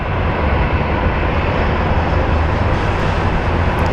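An airliner departing Phoenix Sky Harbor International Airport bound for Atlanta gives a loud, steady broadband engine roar with heavy low rumble, continuous throughout with no talk.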